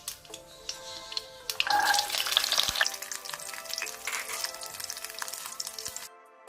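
Fenugreek seeds and garlic crackle and sizzle in hot oil for a fish curry, with a dense frying hiss that swells midway and carries sharp pops and stirring clatter, ending abruptly.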